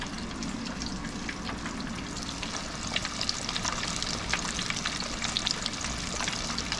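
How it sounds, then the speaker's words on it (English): Pork chops deep frying in hot oil give off a steady, dense crackling sizzle that stays close and even throughout, with small pops scattered across it and no talking. "while we fry up the pork chops"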